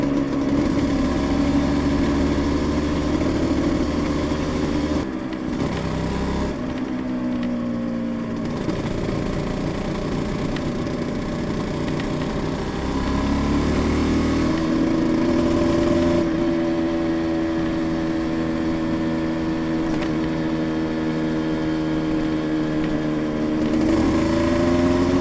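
A rebuilt Yamaha TZR 250 two-stroke motorcycle idles in neutral with a light ticking, a steady close engine drone that holds its pitch throughout with small dips.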